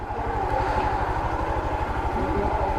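A motorcycle engine idling nearby on a road trip to the Piauí coast, a loud, steady, rapid throbbing pulse with a faint mechanical clatter on top.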